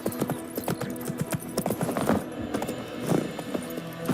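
Roach, the horse in The Witcher 3, gallops with quick, rhythmic hoofbeats close by, with a brief snort or whinny partway through.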